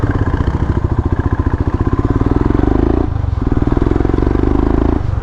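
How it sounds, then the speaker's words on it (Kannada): A Royal Enfield Himalayan motorcycle rides off-road, its engine thumping loud and close in a fast, steady pulse that dips briefly and then picks up again. "ಇದು ನನ್ನದೇ ಗಾಡಿ, ಹಿಮಾಲಯನ್ನು."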